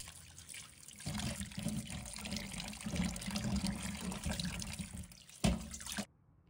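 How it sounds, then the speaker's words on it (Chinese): Sweet potatoes are scrubbed and rinsed in water, giving a steady splashing, running-water wash that stays even for about six seconds, with one sharper splash just before it stops abruptly. "买回来的红薯表面往往会附着很多沙子，因此我们需要确保将它清洗干净"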